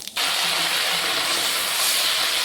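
Whole garam masala and cumin seeds hit hot oil, bursting into a loud, sustained hiss that starts abruptly and holds steady and close.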